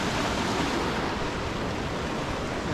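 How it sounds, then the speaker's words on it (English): A waterfall pours down from mountain lakes in Grand Teton National Park, Wyoming, making a steady, dense rushing roar with no breaks and no voices. "that gorgeous waterfall coming down from the lakes"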